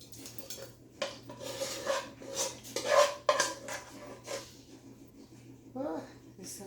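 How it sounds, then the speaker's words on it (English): Creamy baked mac and cheese is scraped from a pot into a baking dish, with a metal spoon clinking and knocking against cookware in uneven bursts, close up, while a person talks throughout. "let's transfer this pot over in here"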